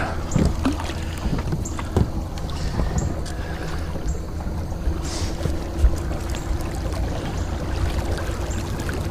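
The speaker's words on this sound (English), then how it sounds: "I'm going to turn around, get my motor in the water." A small fishing boat on a river makes constant low rumbling and water noise with wind buffeting the microphone, and occasional light knocks are heard as its motor is lowered into the water.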